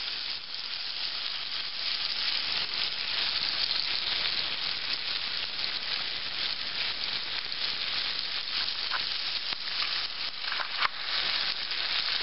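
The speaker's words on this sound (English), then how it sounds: "Right, the bacon in." Bacon frying in a pan on a simple outdoor wood stove, a steady close crackling sizzle with occasional pops, no talking.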